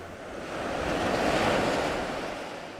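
Atlantic Ocean waves roll onto the shore at Portrush, Northern Ireland, a broad, steady wash of surf swelling to a loud peak and easing off, with wind noise on the microphone and no voices.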